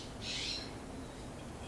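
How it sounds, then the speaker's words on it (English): Noisy birds in a residential neighborhood give a brief, fairly faint high call near the start, then fade into steady outdoor background noise. "Really noisy birds again today."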